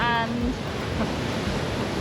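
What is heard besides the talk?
ocean waves crashing at Mahana Point, Nusa Penida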